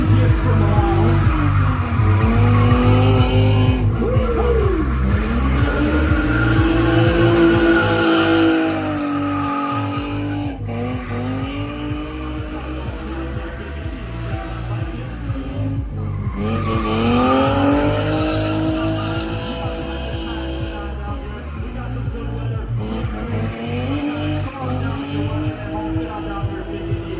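Drift cars at a weekend drifting event, engines roaring and revving continuously with long wavering tire squeal as they slide, loud and sustained, with a crowd and background voices faintly under the noise.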